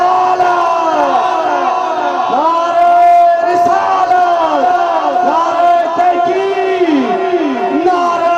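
A large crowd at a Khatam-e-Nabuwat religious conference shouts a chanted response to the Takbeer slogan, many voices roaring together in loud, rhythmic, sustained calls that swell and fall repeatedly.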